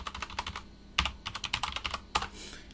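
Password keys tapped on a computer keyboard at a CentOS server login, a quick run of light, close clicks in short bursts with brief pauses, no talking.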